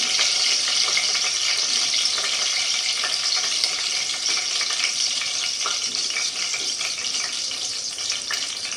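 Cumin and mustard seeds sizzling in hot oil in a pan: a constant, close, crackling hiss with scattered small pops, steady throughout and with no talking.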